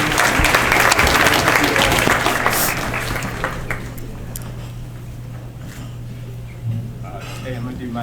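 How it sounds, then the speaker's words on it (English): Audience applause at a cotillion and beautilion event, loud clapping and cheering from a crowd that fades to a lower level, with a voice talking over it. "These young people, y'all should give yourselves a round of applause."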